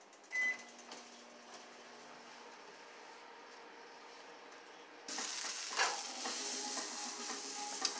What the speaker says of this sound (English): and I'm going to cook the eggs. I'm going to scramble them.